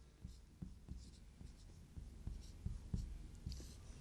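Faint writing on a board, a steady run of short, soft taps and strokes repeating about every half second, close and quiet against a low background hum.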